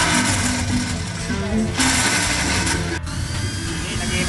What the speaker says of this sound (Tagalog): And then palakihin natin yung butas gamit ang drill.